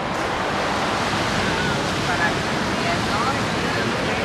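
Pacific Ocean surf rolls onto the beach beside the Puerto Vallarta promenade as a constant broadband wash. Wind noise sits on the microphone under the waves, and no voice stands out.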